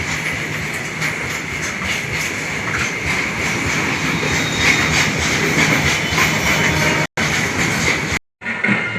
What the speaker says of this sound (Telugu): బ్రిడ్జ్ నుంచి ట్రైన్ అలా వస్తే భలే ఉంది కదండి